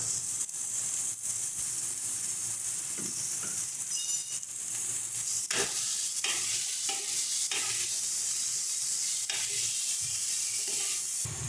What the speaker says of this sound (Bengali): সমস্ত মশলাগুলোকে ভালো করে মিশিয়ে নিচ্ছি